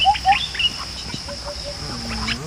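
Chickens, including a breed with feathered feet, cluck and call at a farm cafe, with short bright calls at first and softer clucking over a steady background hum.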